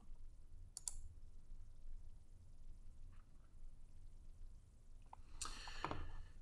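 A computer mouse clicks a button to apply a search filter, giving a few brief, light clicks spread over a few seconds against a quiet room hum.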